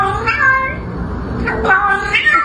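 A human voice imitates a cat, producing a few drawn-out, whiny meows in quick succession, close and loud.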